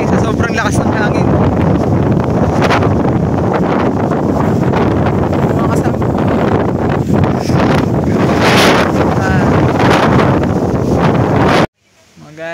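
Strong typhoon wind on a mountain summit roars steadily into the microphone, loud and buffeting throughout, then cuts off abruptly near the end.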